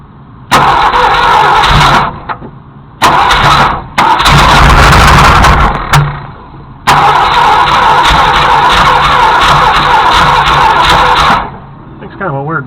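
Seized Ford Galaxie 390 V8 with a 4-barrel carburetor cranking hard in repeated long starter bursts separated by brief pauses, loud and close, with voices talking between attempts.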